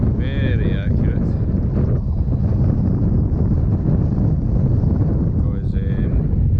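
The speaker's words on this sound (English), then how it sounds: "well, it's hard to fight the wind." Strong wind buffets the microphone outdoors with continuous loud low rumble and gusting noise, with brief harmonic whines near the start and end, during a drone flight over a 22-year-old Krone BiG M self-propelled mower at work.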